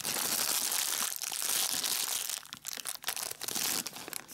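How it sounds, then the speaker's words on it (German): A plastic bag is pulled open during an unboxing, loud close crinkling and crumpling that runs continuously at first, then breaks into separate sharp rustles and crackles, with no speech. "sofern ich die Tüte hier aufkriege."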